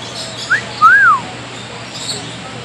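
A pet macaw parrot gives a brief chirp followed by a louder rising-and-falling whistled call, close by and fairly clear against quiet room background.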